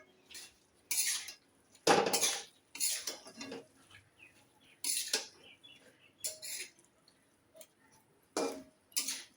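Malabar spinach curry is stirred in a pot: short, close bursts of a utensil scraping and clanking against the metal, separated by brief quiet gaps.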